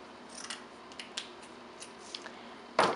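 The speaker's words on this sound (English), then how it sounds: "So I'm going to go ahead and cut the burlap ribbon" Scissors cutting burlap ribbon on a wreath: a series of quiet, close snips spaced irregularly, ending in a louder crisp cut, with no talking.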